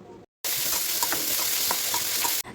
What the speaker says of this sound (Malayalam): സവാളയും പച്ചമുളകും വെളുത്തുള്ളിയും കൂടി ചേർത്ത് കൊടുത്ത് ലേശം ഉപ്പ് കൂടി ഇട്ട് നന്നായിട്ട് വഴറ്റിയെടുക്കുക